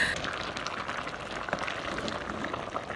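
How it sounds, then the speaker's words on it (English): Afang soup being stirred in a pot, giving a steady close bubbling, wet crackle with faint scraping, continuous and even throughout without any talking. "So I'm just stirring my food to make sure each and every of the ingredients soaks very well."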